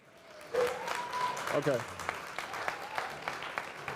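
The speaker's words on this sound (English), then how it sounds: "Big round of applause for Jerry Moore." An audience at the Swiss Coffee Festival on the Good Spirits stage applauds finalist Jerry Moore. The clapping is steady and moderately loud, with someone speaking briefly over the start.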